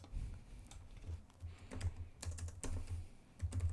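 Typing on a computer keyboard while entering text in a font demo, with quick bursts of key clicks and brief pauses, close up and alone.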